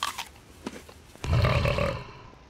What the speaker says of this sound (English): Burping. That's quite strong